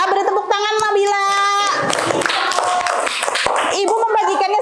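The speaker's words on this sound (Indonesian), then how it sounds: "Beri tepuk tangan Nabila" Children in a classroom break into brief, dense clapping, which follows a woman's speech and gives way to more talk.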